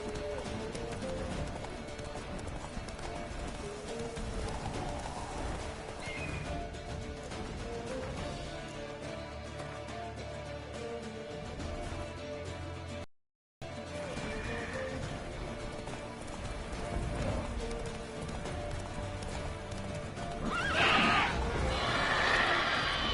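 Hooves of Roach, a horse in a video game, clip-clop in a quick steady galloping rhythm for most of the stretch, with a brief break midway and a louder burst of clatter near the end; no speech rides over it.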